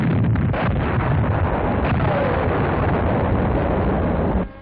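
Tank rounds from an M24 Chaffee light tank burst against a bunker during trials on Bougainville, giving a continuous loud roar of blast and rumble that fills the whole stretch before cutting off at the end.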